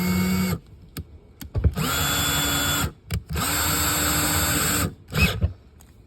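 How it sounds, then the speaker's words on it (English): A power drill driving a Lint Eater dryer-vent cleaning tool whirs in two sustained bursts of a few seconds each, with short clicks and pauses between, close and fairly loud. "hold the drill, power the drill only on about half tightness"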